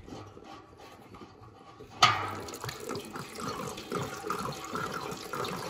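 Water draining from a home heating radiator, a soft trickle that bursts into a steady, close rush of flowing water partway through, with no talk.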